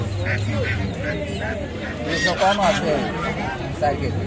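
Domestic geese at a busy rural poultry market honk and cackle in repeated nasal calls close by, over steady crowd chatter and people talking.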